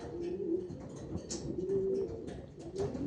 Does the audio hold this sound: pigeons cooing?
yes